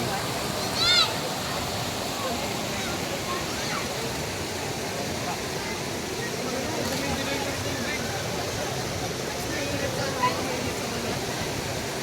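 Water rushes steadily at a waterfall during a family outing in Barangay Baay, Labo, Camarines Norte, a loud, constant broadband roar filling the whole stretch, with a few faint voices and splashes.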